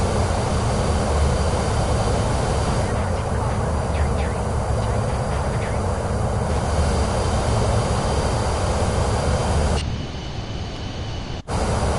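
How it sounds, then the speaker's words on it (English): A jet engine roars continuously in a Microsoft Flight Simulator 2024 flight, a loud, dense broadband drone that dips briefly near the end. "Man, this jet's loud."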